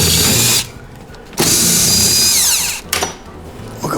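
A power drill whirs in short, loud bursts while backing Phillips screws out of the lower knee bolster on a Porsche 914 dashboard, with brief quiet gaps between runs.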